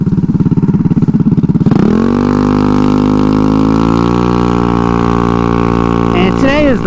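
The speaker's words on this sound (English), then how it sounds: "Today is the first ride without a muffler, just a straight header." A Honda Ruckus scooter with a GY6 engine running an open straight header and no muffler: a loud, close, raspy putter that rises into a steady droning rev, with a brief wavering squeal near the end.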